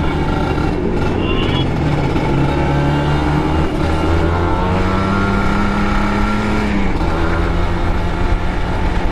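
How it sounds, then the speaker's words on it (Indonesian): Supermoto motorcycle fitted with an ECTI Racing aftermarket exhaust runs loud and close in a steady, continuous drone with slight pitch shifts and no pauses. "Nih dengerin suara motor saya."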